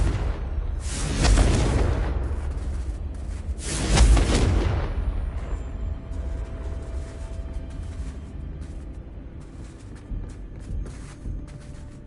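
Confringo explosion spell going off in a Harry Potter wizarding video game: two loud booming blasts a few seconds apart, each followed by a rumbling tail that settles into a low ambient hum.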